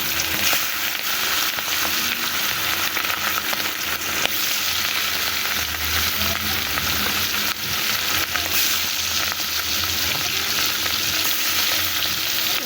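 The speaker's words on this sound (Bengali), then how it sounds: "তো রোদের মধ্যে দেখেন ইলিশ মাছ ভাজতেছি" Turmeric- and salt-rubbed hilsa fish from the Padma fry in a very hot pan outdoors in the sun, a loud, continuous crackling sizzle close by with no talk.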